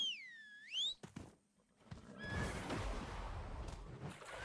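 A horse in the video game Black Desert lets out a shrill, clear neigh, followed by thudding hoof sounds and a burst of splashing or rushing noise.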